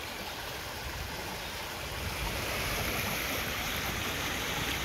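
A small beck flows in a steady, unbroken rush of water heard up close, its noise rising slightly partway through and staying alone with no talk.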